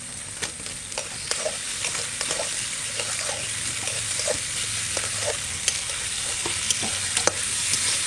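Chopped tomatoes and green chilies go into onions already fried in a pan for a boal fish curry, giving a steady close sizzle with repeated stirring scrapes and clicks throughout, no talk.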